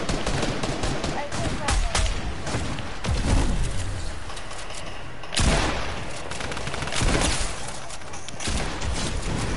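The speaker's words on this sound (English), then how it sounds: "I see gunshots on my screen" Gunfire in the video game Fortnite, bursts of rapid shots and heavier booms scattered across several seconds, fairly loud and close, with players talking between and over the shots.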